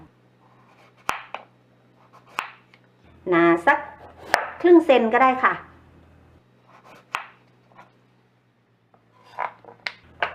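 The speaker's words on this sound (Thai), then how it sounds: "หั่นเป็นแผ่นๆก่อน" A few sharp knife chops slicing taro on a board, scattered with pauses, alongside someone speaking at close range.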